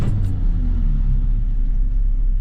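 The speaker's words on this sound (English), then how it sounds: "let's just go ahead and see what this 289 200 horsepower engine sounds like" A 1965 Ford Mustang's 289 cubic inch, 200 horsepower V8 idles with a deep, steady rumble close by, no talking.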